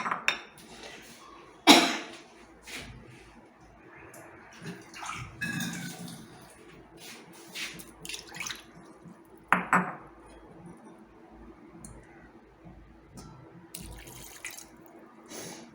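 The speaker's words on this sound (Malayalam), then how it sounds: "കുറച്ചും കൂടെ വെള്ളം ഒഴിക്കാം." Water from a tap runs in bursts into a pot while making vegan vermicelli kheer, splashing and pouring close by between clinks of utensils and vessels, with quieter gaps in between.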